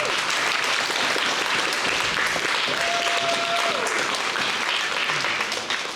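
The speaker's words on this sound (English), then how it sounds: "give a great shout out and round of applause to our staff at the Marston Science Library" Applause for library staff at a Black history teach-in event, a sustained, dense round of clapping from an audience that stays steady and loud throughout.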